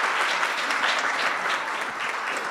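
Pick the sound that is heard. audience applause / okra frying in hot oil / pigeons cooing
audience applause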